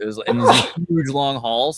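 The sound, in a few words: sneeze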